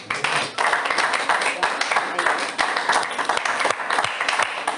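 A church congregation breaks into applause after a prayer, many hands clapping in a dense, lively burst with a few distinct claps standing out and some voices mixed in.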